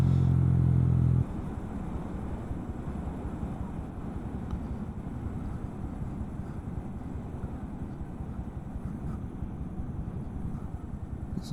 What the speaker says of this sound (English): Of course, this bike is loud.